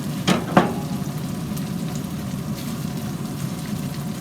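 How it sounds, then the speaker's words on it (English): Ground beef sears on a Louisiana Grills pellet grill, giving a low, steady sizzle with a couple of sharp scraping clacks of a utensil early on as it is stirred. "Let's give it another stir. Yeah, that's what I want to see. I got that sear happening on the outside."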